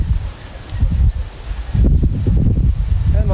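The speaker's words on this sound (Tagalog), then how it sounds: "Lakas ng hangin." Strong wind buffets the microphone outdoors during kite flying, a heavy rumbling roar with gusts that swell and surge, loud and continuous.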